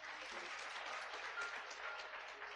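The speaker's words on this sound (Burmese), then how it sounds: "လက်ခုပ်တန်လေးတီးပေးပ" Sustained applause from an audience at a motivational success talk, steady and dense throughout, fairly faint and even, with no voices over it.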